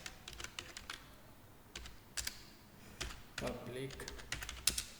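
Test code being typed on a computer keyboard for a Selenium Java test class, with quick clusters of clicky keystrokes and short pauses, close, and someone speaking briefly over it.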